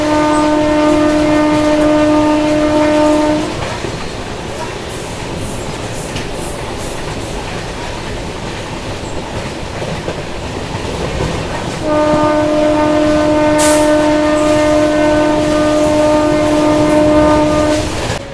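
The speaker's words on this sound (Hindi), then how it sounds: "बढ़िया हॉकिंग के साथ अपनी ट्रेन अभी एंटर कर रही है क्रॉसिंग के लिए।" The Naharlagun–Guwahati Shatabdi Express sounds its horn while entering a railway crossing. Two long, loud, steady horn blasts are separated by about eight seconds of rumbling wheels and rolling clatter, heard up close.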